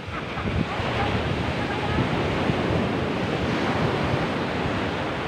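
Ocean surf at Dinadiawan beach, a continuous roar of breaking waves filling the whole stretch, loud and close with wind buffeting the microphone and no pauses between swells.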